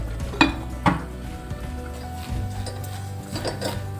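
Bitter gourd theeyal is stirred in a pan over a low sizzle and steady hum. A couple of sharp clinks of the spoon against the pan stand out early, then softer scraping strokes follow.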